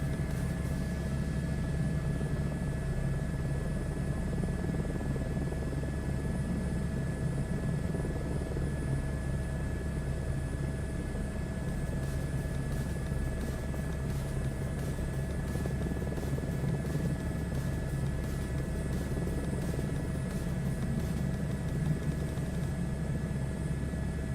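A helicopter descends toward a landing in the MSFS 2024 flight simulator, its steady rotor and engine drone a constant loud hum with a faint rhythmic blade flutter, alone without talk.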